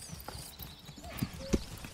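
Hooves of a pack donkey in the medieval village-building game Manor Lords clip-clop in scattered soft knocks, with a couple of sharper louder steps, over a quiet outdoor ambience.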